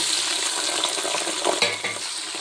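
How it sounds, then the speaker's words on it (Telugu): Onions and green chillies sizzle loudly in hot oil with cashews, stirred in a pan for vegetable pulao; a steady close frying hiss with a few utensil scrapes and no talk. "ఇప్పుడు ఉల్లిపాయలు వేసుకుందాం పొడవుగా కట్ చేసి ఉల్లిపాయ పచ్చిమిర్చి"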